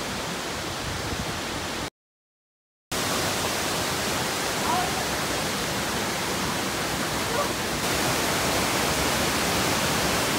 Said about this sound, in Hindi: सवात के मैंगोरा डिस्ट्रिक्ट से 18 किलोमीटर अंदर शिंगराई मंगलवार गांव में मौजूद ये जन्नत नज़ीर शिंगराई वाटरफॉल किसी अचंभे से कम नहीं है।